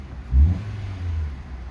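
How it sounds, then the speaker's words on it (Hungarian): A Hyundai car engine revs once, a short loud low surge of rumble before settling back into a steady murmuring idle, heard close with no talk. "Aha, így döngicsél, hogyha pörgetjük"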